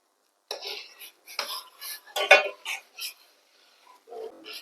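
Ragi flour mixture being stirred in a pot, with irregular bursts of scraping and clinking utensil strokes separated by short silences.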